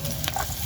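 Garlic fries in a pan with a close, steady sizzle that lasts under a second, heard alone with no voices.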